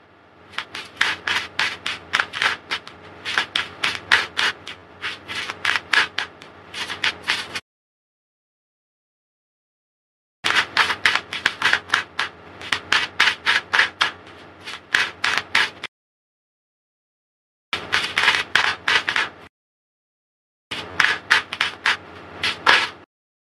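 A deck of oracle cards being shuffled in several long riffling bursts, each a quick papery flutter close to the ear, separated by silent gaps.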